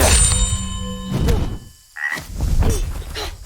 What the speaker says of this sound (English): Nice frog.